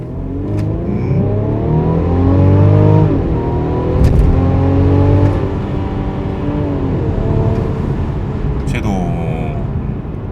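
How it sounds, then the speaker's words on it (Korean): A 2021 Mercedes-Benz E350 4Matic AMG Line accelerates hard in Sport Plus mode, its engine note climbing through several gear changes, heard loud from inside the cabin while someone talks over it. "좀 더 해결이 되길 바라면서 스포츠 플러스를 놓고 가속을 준비합니다"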